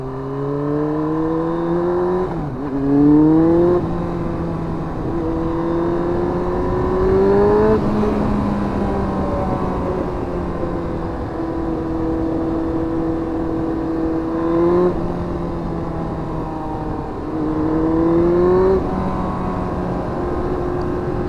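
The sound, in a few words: Yamaha R1 motorcycle engine while cruising back roads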